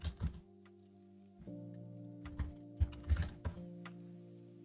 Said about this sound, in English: What's the typing?